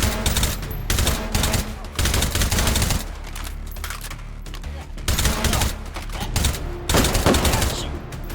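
Steyr AUG rifle fire in the VR shooter H3VR's Institution map: repeated close, loud bursts of automatic gunfire with brief pauses between volleys, rapid cracking shots that dominate throughout.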